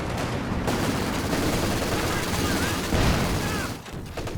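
Paired infantry support guns barrage during a Company of Heroes 2 2v2 match, heard as a dense, loud, continuous wash of battlefield gunfire and booming shots that briefly dips near the end before resuming.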